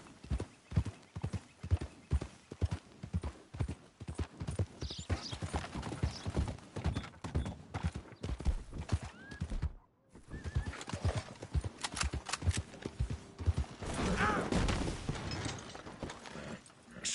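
A horse gallops with rapid, rhythmic hoofbeats and neighs in Red Dead Redemption 2, with wagon and game sounds mixed in and a brief dropout partway through.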